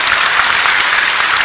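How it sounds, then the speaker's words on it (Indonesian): Loud, steady applause from a crowd listening to a religious lecture, a dense even clapping wash with no voices over it. "tepuk tangan sing banter, tidak apa-apa"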